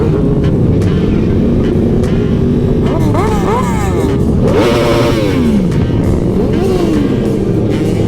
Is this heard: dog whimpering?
no